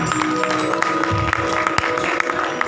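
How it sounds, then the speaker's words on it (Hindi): Audience applause welcomes a guest onto the stage at a live music event in a Mumbai hall: steady, dense clapping throughout with sharper individual claps, a faint musical tone underneath. "आपकी जोरदार तालियां उनका यहाँ पर स्वागत करें।"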